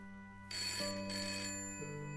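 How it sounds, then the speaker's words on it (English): A telephone rings in the Broken Sword video game, an electronic ringtone trilling clearly and alone in two bursts with a sharp click at the end. "Oh, another phone call."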